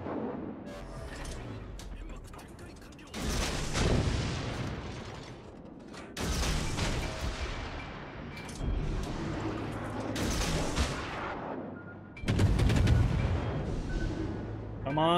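Naval gunfire in World of Warships rings out in several heavy booming salvos with rumbling tails, spaced a few seconds apart, amid game engine noise; a player talks over it.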